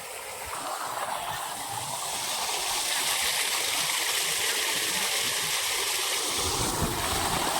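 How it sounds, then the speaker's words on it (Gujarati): Fresh water rushes continuously through a farm irrigation channel, a broad, steady gurgling flow heard up close that swells slightly louder partway through and never breaks. "જો અહીંયા હાલે પાણી મીઠું મીઠું તાજું તાજું પાણી હાલે"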